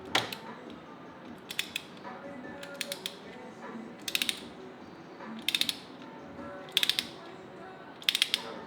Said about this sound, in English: you want to torque this down to 20 foot-pounds. Start in the middle and work our way out.